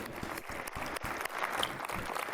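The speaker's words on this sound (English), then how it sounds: "I think we owe the team at Sony a round of applause." Steady applause from a crowd at the E3 2005 gaming expo, continuous and moderately loud throughout, with scattered individual claps standing out.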